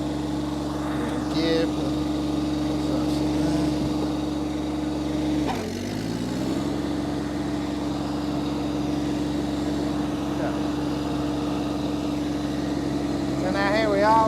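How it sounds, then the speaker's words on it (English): Iseki TXGS24 sub-compact tractor engine running at a steady close hum, dipping briefly as it shifts and moves off, with someone talking throughout. "So let's start this up and we'll just do a couple of passes up and down here."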